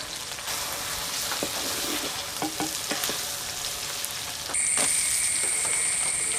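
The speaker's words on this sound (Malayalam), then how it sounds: "ഉള്ളി ചെറുതായിട്ടൊന്ന് വാടി കഴിയുമ്പം ഇഞ്ചിയും വെളുത്തുള്ളിയും ചതച്ച് വെച്ചിരിക്കുന്നത് ഇട്ട് കൊടുക്കുക" Crushed ginger and garlic sizzle in hot oil with softening onions in a pan, a steady close crackle with occasional stirring clicks, brightening into a sharper hiss near the end.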